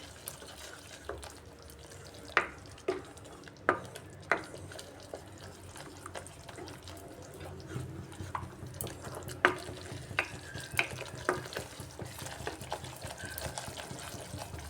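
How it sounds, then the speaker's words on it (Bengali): Spice paste with tomato fries in a pan while being stirred, a soft continuous sizzle broken by sharp scraping and clinking strokes of the spoon, sparse at first and growing busier toward the end. "বেশ কিছুক্ষণ আমি মশলাটাকে এইভাবে কষিয়ে নিচ্ছি"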